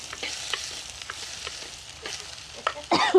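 Spices crackle and sizzle in hot oil with scattered popping, growing louder and sharper toward the end.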